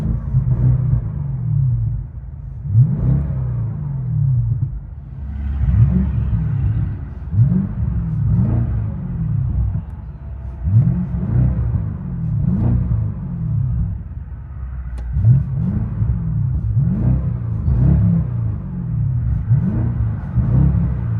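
A BMW 650i with a 4.4L V8 and muffler delete, heard from inside the car, giving a deep rumbling drone that swells with repeated revs and acceleration pulses, close and loud with no talking.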